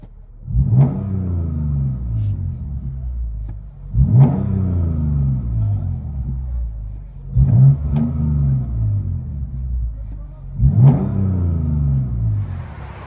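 A 2016 Lexus GS 350 F Sport V6 with true dual exhaust, Dynomax race bullets and muffler delete revs four times, each sharp throaty blip falling back to a rumbling idle, close and loud.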